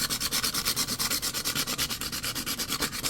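Hand sanding with 80 grit sandpaper, roughing up a surface around a marked through hole on an RC boat hull before epoxying, a steady back-and-forth scrubbing rhythm of quick close strokes with no talking.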